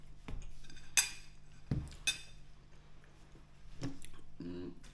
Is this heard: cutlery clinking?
yes